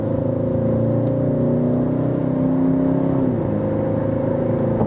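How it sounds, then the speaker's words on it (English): A 2019 Peugeot 508 GT-Line accelerates in sport mode from 70 to 100 km/h, a steady in-cabin engine hum with a rising tone and continuous road and tire noise, no talking. "I'm going to the sports mode and doing from 70 kilometers to 100."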